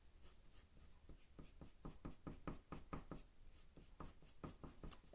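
Colored pencil strokes scratch across paper in quick, rhythmic bursts, firm and close, each short stroke repeating steadily with no talking.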